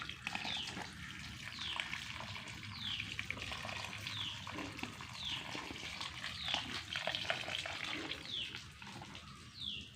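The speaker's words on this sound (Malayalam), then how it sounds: "നമുക്ക് ഇതിനൊക്കെ വെള്ളം നനയ്ക്കാം" Water is poured onto vegetable plants, including amaranth, in a home garden. The splashing is soft and continuous, with faint repeated chirps in the background.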